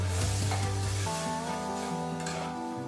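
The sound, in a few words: spiced vegetables sizzling as water is added to the pan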